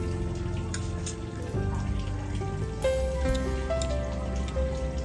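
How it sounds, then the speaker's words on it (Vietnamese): Steady, dense rain falls throughout, a constant close hiss of drops on surfaces with a few steady tones underneath and no talking. "hôm nay mưa, khổ quá. Mưa nè."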